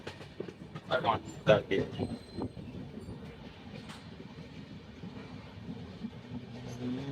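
Passenger train running on rails between Punjab and New Delhi, a low steady rumble heard from inside the carriage with a few clanks and rattles early on, and a voice speaking over it.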